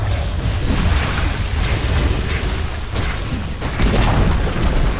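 Dota 2 tower collapsing under attack during a Shadow Fiend mid match: a steady, loud rumbling crash of booming, debris-like impacts with repeated heavy thuds over five seconds, no talking.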